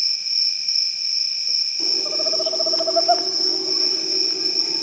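A spectacled owl calls at night in Suriname, a series of low, rapid pulsing hoots starting after a moment of silence, set against steady high-pitched insect and cricket drone.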